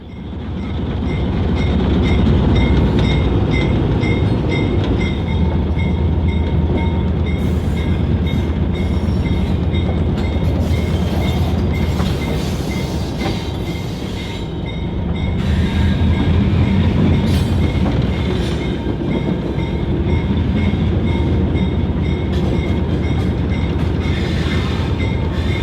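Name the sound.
excursion train on former Tennessee Central Railway mainline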